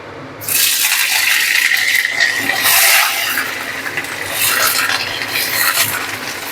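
Paneer pieces shallow frying in hot, smoking oil in a pan, starting as a sudden loud hiss and then holding as a steady, dense sizzle with slight swells throughout.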